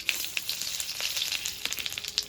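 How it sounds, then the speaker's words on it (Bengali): Bay leaves, two dry red chillies and whole cumin spluttering in hot oil for a tempering, crackly sizzling with sharp pops scattered throughout, close and alone. "তেলটা গরম হয়ে গেছে, এবার ফোড়নে দিয়ে দেবো 2টো তেজপাতা, 2টো শুকনো লঙ্কা, কটা গোটা জিরে।"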